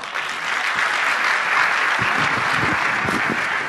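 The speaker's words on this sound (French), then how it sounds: "applaudissez-le pour moi" Lecture audience applauding steadily in a hall after a speaker on time management and stress, a dense wash of clapping with a few louder close claps near the end.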